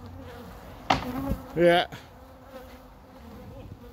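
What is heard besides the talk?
swarm of aggressive killer honey bees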